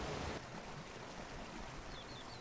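Gentle flowing water of the Owenmore river in Sligo, a soft continuous rushing hiss, fairly quiet, with a faint bird chirp near the end and no voices.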